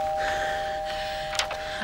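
A doorbell rings with a steady electronic tone, followed by a brief brighter chime near the end, heard indoors with no talking.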